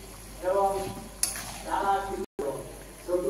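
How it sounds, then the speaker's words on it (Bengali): Taro leaves curry is stirred and fried in a pan, with bursts of scraping and sizzling, a sharp clink of the utensil against the pan, and a brief dropout near the end. "এবার আস্তে আস্তে জলটা টানবে আর কষতে থাকবো।"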